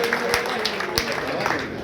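A crowd at a political membership drive gathering claps to welcome a former MLA, a steady mass of applause with a few sharper individual claps standing out, continuing throughout.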